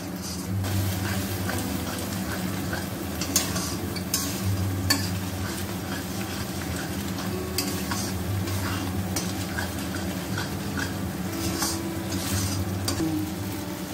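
Ground cashew and melon seed paste frying in a pan, a continuous close sizzle with repeated scrapes and clinks of a spoon stirring against the metal.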